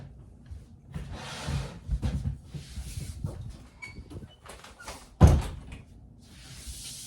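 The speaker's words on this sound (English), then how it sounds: "I'm gonna close the door." Someone moves around and a door closes indoors, with rustling and shuffling before a single sharp, loud thud, then faint movement afterward.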